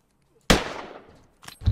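A single gunshot in the video game Hurtworld, one sharp blast with a decaying tail, followed by a couple of faint softer knocks.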